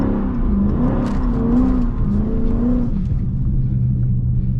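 A Dodge Scat Pack pulls hard in second gear on a wet, rainy road, its engine note rising in a steady loud drone with a pitch shift partway through before settling into a lower rumble.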